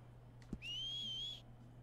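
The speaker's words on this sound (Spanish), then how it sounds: "Silbido." A single rising whistle used to call the horse in Red Dead Online, clear and sustained for under a second after a short click, over a low steady hum.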